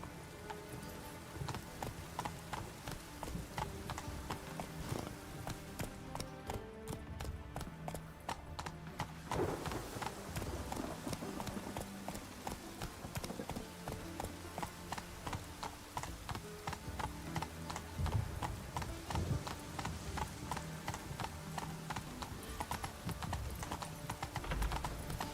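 Roach, a horse in the video game The Witcher 3: Wild Hunt, galloping with a steady, rapid clip-clop of hooves throughout, set against a continuous game soundtrack with occasional faint background voices.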